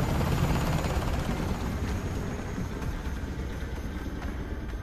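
A steady, loud rotor roar with a low chopping throb fills the whole stretch, no voices, as military helicopters, including a Chinook, fly close by.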